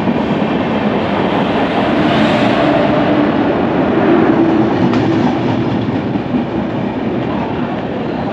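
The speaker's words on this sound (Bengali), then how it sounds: "এই ঢুকে গেল হাওড়া টু দীঘা তাম্রলিপ্ত এক্সপ্রেস।" Howrah to Digha Tamralipta Express pulling into platform 5 at Mecheda railway station, a loud, steady rumble of wheels and carriages rolling through for the whole stretch with faint clatter.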